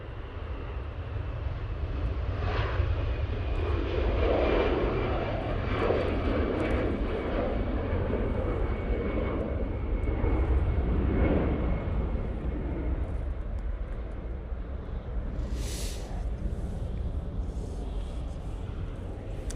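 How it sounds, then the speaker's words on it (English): An Aer Lingus Airbus A320 departs Manchester Airport back to Dublin, its jet engines producing a continuous, fairly distant roar with a faint steady whine, holding an even level. "Lingus A320 now departing back to Dublin."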